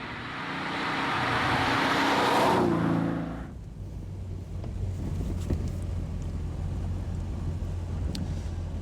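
TVR Tamora sports car roars past at speed, building to a loud whooshing peak before fading into a steady, lower engine and road hum from inside the car.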